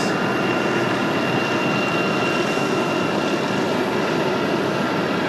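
A Republic Airways jet airliner departing Raleigh-Durham International for Washington Dulles roars steadily and loudly throughout, a broad continuous engine rumble with no talk.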